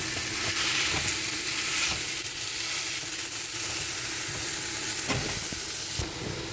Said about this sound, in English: Okay, I'm now going to add my ground beef. And I'm going to break that up.